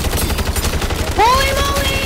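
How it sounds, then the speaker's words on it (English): Automatic sentry gun firing in MW Zombies gameplay, a steady dense rattle of rapid shots running throughout, with a rising electronic whine and tonal sweep layered in partway through. "Sentry gun deploy."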